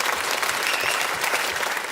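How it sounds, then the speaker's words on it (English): A studio audience at a television comedy show applauds loudly and steadily, a dense wash of many hands clapping that continues throughout. "Yes, that's worth a clap, isn't it?"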